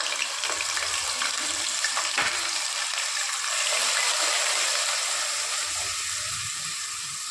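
Onion paste frying in a pan for mutton rezala gives a steady, close hiss of sizzling oil that holds an even level, with faint scrapes of stirring and no voices.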